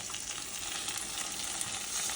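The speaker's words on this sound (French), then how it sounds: "j'ai mis un peu de beurre dans une casserole. Et puis je vais faire fondre tout doucement." Butter melting gently in a saucepan, the start of braised endives, gives a soft, continuous crackling sizzle, close and fairly quiet, with no voices over it.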